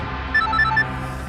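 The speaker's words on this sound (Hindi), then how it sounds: "माता जी का फोन इस वक्त?" A telephone rings with an incoming call, its bell tones repeating in short bursts at moderate loudness over a low steady background, with no voices.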